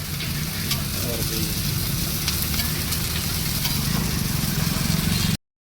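Chillies fry in hot oil for patties, giving a dense, steady sizzle that holds close and even until it cuts off abruptly.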